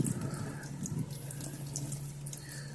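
Water pours steadily from a tap into a homemade pond filter to cool and harden it, a close, continuous rushing flow with no talking.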